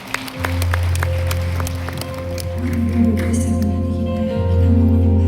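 A church congregation claps during a Christmas service, the applause rising under sustained organ or keyboard chords that keep playing throughout, fairly loud in a large room.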